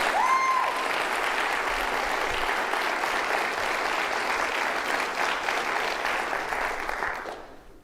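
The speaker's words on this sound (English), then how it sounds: "Let's also give Chase a round of applause." An audience at a university's State of the University address breaks into warm, continuous applause lasting around seven seconds, with a brief whistle-like tone at the start, then cuts off abruptly.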